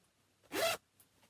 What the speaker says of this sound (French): Avec la fermeture éclair, j'aime bien en plus.